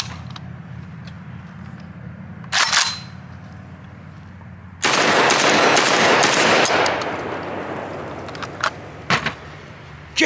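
A JTS AK-12 12-gauge shotgun fires at a range: one short blast, then a longer, louder roar of noise, followed by scattered mechanical clicks and rattles.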